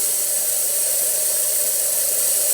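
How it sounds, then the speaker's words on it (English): Steady, continuous hiss of steam from a Jura Impressa Z5 coffee machine's cappuccino spout, loud and close, unbroken with no talk. "Steady steam coming out of the machine, excellent temperature, working really great"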